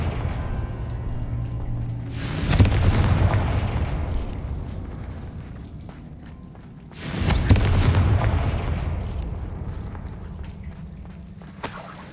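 Two loud booming blasts from the Confringo spell in Hogwarts Legacy, each a sudden deep explosion that rolls off slowly, set about five seconds apart, with a faint low hum between them.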